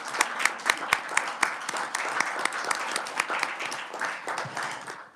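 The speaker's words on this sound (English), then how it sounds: "Let's give them a round of applause." Applause at a state Senate education committee hearing honors master teachers, with sharp individual claps standing out at first and then blending into a steady wash of clapping.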